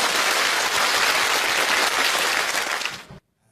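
Dense, loud audience applause fills a concert hall at a Uyghur concert for about three seconds, then cuts off abruptly into near silence.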